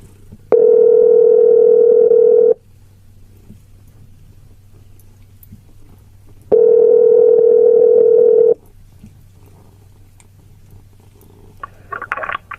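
Dial tone over a telephone speakerphone, two steady buzzing bursts of about two seconds each separated by a quiet gap, followed by faint scattered dialing beeps at the end.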